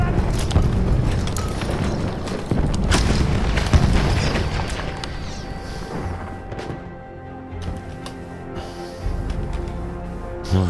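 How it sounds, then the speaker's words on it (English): A grenade blast in the first-person shooter Battlefield 1 hits as a loud, heavy boom followed by crashing debris and a rumbling tail, with further booms and battle noise trailing off. "Je lance une grenade!"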